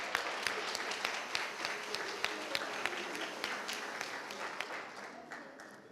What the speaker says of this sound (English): Congratulations, a round of applause for her, please.